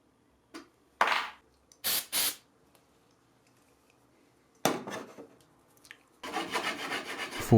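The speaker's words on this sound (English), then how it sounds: "For a tighter fit of the top board, you can grind off the top of the nut with a file." A metal file rasps across the top of a steel T-nut meant for installing into wood, coming in short separate bursts of strokes and then a longer run of steady filing, close and moderately loud.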